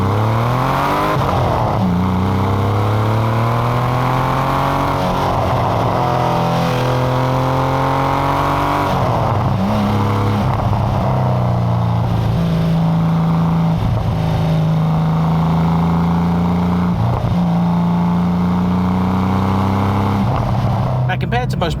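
A 1990s Porsche 911 993 Carrera with an air-cooled flat-six accelerates hard through the gears, a loud, steady engine roar climbing in pitch and dropping at each shift, with someone talking over it throughout.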